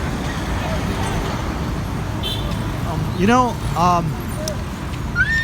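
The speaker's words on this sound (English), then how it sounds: "there is a lot of traffic and a lot of people walking around" Busy night street in Manila with a steady roar of passing cars and buses, scattered horn toots and a murmur of pedestrians milling around, while people talk in the foreground.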